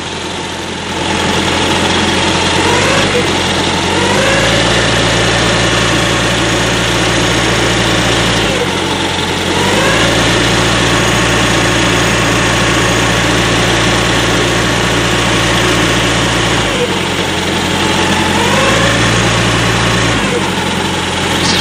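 Diesel engine of a truck reefer refrigeration unit running steadily just after starting, a loud, close, continuous idle drone with brief dips in pitch, no talk over it.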